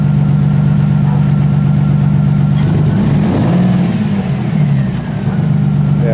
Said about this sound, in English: you can hear the power steering pump